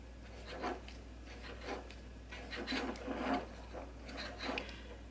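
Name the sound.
knitting needles clicking on IKEA table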